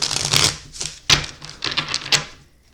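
A Cthulhu-themed tarot deck being shuffled, giving bursts of crisp card riffling and flicking in irregular clusters, close and fairly loud, with no voices.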